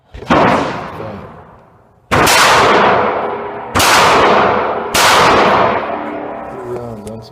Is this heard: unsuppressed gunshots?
yes